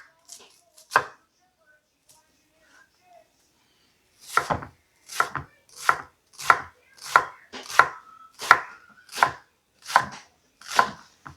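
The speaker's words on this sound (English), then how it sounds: "so if I cut half the onion up, we only need half of the half" A knife chopping an onion on a cutting board: a few scattered cuts, a short pause, then a steady run of about ten firm, evenly spaced chops close by.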